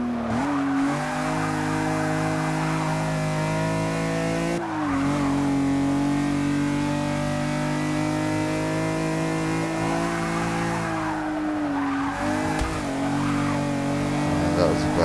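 A BMW M6 in Forza 6 revs loud and close, its harmonic engine note climbing through the gears with sharp dips at each shift and occasional tire squeal, under steady voice-over talk.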